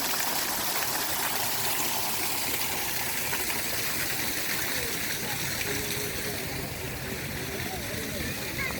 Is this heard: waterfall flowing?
yes